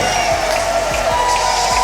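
A minor-league baseball crowd in Knoxville cheers loudly after an eighth-inning home run. A dense, steady roar of voices fills the brief moment.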